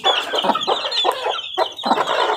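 Three young Maclean chicks, a three-quarter Maclean and one-quarter black cross, peep loudly and continuously up close in a constant, overlapping chatter.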